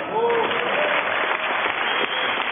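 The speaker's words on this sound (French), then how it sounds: "On l'applaudit." A game show studio audience claps for a named contestant, a steady wash of applause with voices rising over it.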